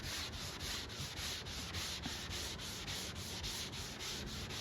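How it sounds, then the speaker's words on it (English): Rhythmic scratchy strokes of sandpaper rubbing back and forth by hand over a primed 2011 Chevy Malibu body panel outdoors, steady and even, with no voices. "sanding outside like this in the summertime, it's really not dusty"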